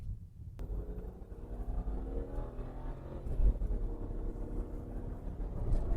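A turbocharged BMW car engine that is not making full boost drones loudly and steadily, pulling hard with a rising tone as it accelerates, with wind buffeting in the background.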